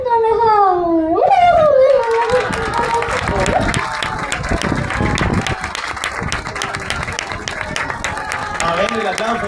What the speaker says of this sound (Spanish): A ver, el aplauso tiene que ser más fuerte